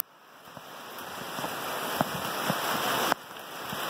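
Heavy rain drums steadily on a metal roof overhead, a dense continuous patter that builds slightly louder, with a few sharper drop impacts and a brief dip near the end.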